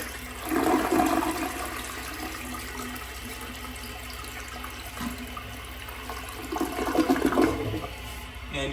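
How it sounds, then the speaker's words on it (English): A wall-hung toilet flushes with a close, loud rushing surge that fades to a steady trickle of refilling water, then swells again briefly near the end. "you want to flush the toilet and check for any leaks anywhere"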